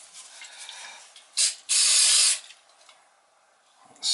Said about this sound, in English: I said that carburetor cleaner works really good on that.